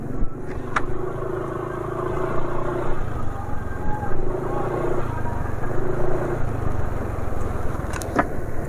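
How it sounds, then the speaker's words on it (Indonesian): An engine idles steadily after a Mesran Super 20W50 oil change, a low continuous rumble with faint mechanical clatter, close to the microphone, while someone talks briefly over it. "Suara mesin ya termasuk cukup halus."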